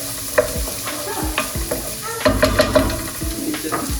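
Onions cooking down in a pan for a mushroom pot pie, with a steady sizzle and repeated scraping, clattering stirs from a utensil, close and fairly loud.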